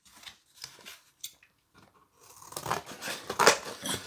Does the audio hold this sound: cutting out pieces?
yes